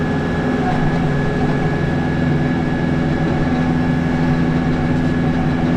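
A Massey Ferguson 2860 tractor drives a PTO snowblower through deep snow, a loud, steady low diesel drone with a constant whining hum, close and unbroken throughout.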